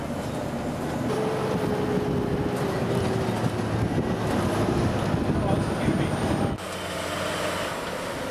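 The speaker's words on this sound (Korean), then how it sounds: "끝없이 이어지는 모래 언덕을 덜컹거리는 사륜 구동차를 타고 지나갔다." Four-wheel-drive vehicle rattling over the Stockton sand dunes in Australia, a dense continuous engine drone and rumble with wind buffeting, heard from inside at steady loudness with a brief dip near the end.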